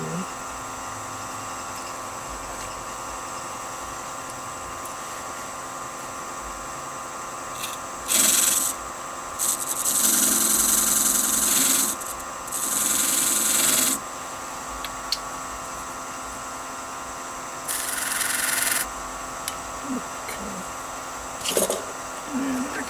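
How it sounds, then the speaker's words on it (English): A carbide tip tool hollows a small oak bowl on a wood lathe: a steady motor hum runs throughout, broken by several rough scraping bursts of a few seconds each, with no talking. "Continue to hollow out part of it with the carbide tip tool."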